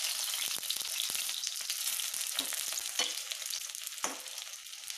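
Dense, continuous sizzling of ripe jackfruit fritters (chakka pori) frying in hot oil, close and steady, with a few soft clicks and stirring taps and no talking.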